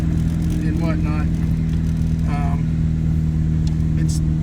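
A 1961 Triumph TR3B on a road test, its engine droning steadily and loudly throughout while someone talks over it.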